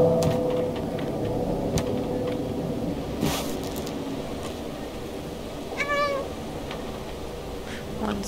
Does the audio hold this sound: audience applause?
no